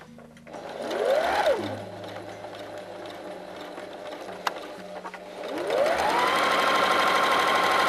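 Sewing machine running in two bursts while stitching a coffee table cover, each run rising in pitch as it speeds up, then holding steady or winding down, with a quiet pause between, close and fairly loud.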